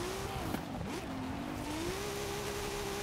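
A car engine in Hot Wheels Horizon open racing holds against its rev limiter, a sustained buzzing whine that wavers and dips briefly before climbing back, steady and close throughout.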